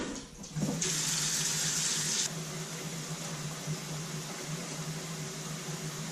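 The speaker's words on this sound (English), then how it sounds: "Let's fill it with some water." Tap water gushes into a large cooking pot for pho, a steady loud rush that starts after a brief pause, brightens for about a second and a half, then settles into a lower continuous fill without talk.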